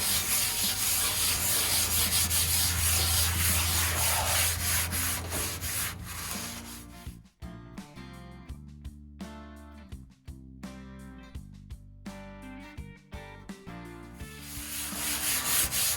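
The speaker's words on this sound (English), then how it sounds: "got a scouring pad right here. We're gonna go over this really good" A scouring pad scrubs the steel surface of a new Blackstone griddle with steady, close rubbing. The strokes then break into a series of separate scrapes before turning continuous again.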